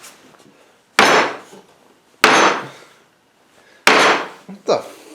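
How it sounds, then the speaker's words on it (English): Hammer striking wooden box end pieces in hand-tool box building, three sharp, loud, separate blows followed by a smaller double knock, with short silent gaps between hits. "I think I'm going to need a hammer for this"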